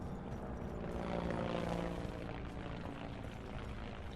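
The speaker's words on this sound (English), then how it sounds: "And that's an aeroplane." An aeroplane drones overhead in a Tomb Raider-inspired video game, a steady propeller-engine roar with dense rumbling texture, fairly loud and constant, no voices.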